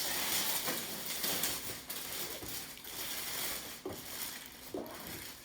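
Plastic bag being pulled off a new laser transfer printer during unboxing, continuous crinkling and rustling of plastic with a few sharper crackles, quiet and close.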